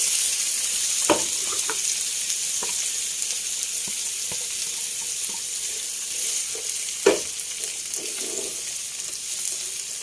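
Onions sizzle and fry steadily in a pan of hot oil left from cooking okra, with a few stirring scrapes and clinks over a constant hiss.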